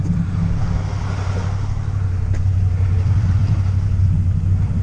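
An ATV, a Can-Am Outlander, churns through deep water with a steady low engine rumble and a gurgling, bubbling quality that continues unbroken and close throughout.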